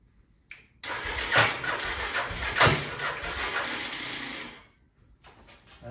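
A 1986 Yamaha Big Bear 350 ATV engine cranks with the choke on and fires, sputtering and revving with a couple of sharp pops for several seconds before cutting out, close by and loud.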